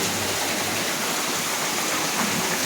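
Heavy rain pours down steadily, water running everywhere, a dense unbroken hiss that stays loud and even throughout with no voices.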